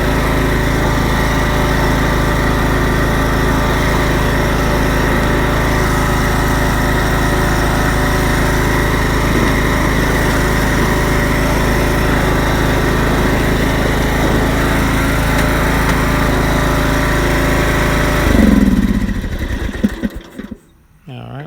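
An old Craftsman lawn mower with a reconditioned engine runs steadily at a loud, even pitch without surging, then is cut off near the end and sputters to a stop, with someone speaking briefly over it.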